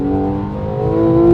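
A Porsche 911 engine revs with a steady, droning tone that holds and swells slightly louder toward the end, close and continuous with no voices.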